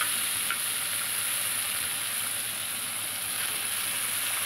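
Ginger sizzles steadily in hot oil in a pan for a vegetarian potol dorma gravy, a continuous close frying hiss with no pauses and no voices.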